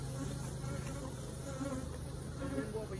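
Honey bees buzzing in and around a beehive, a soft continuous drone of many insects at low level with no talking.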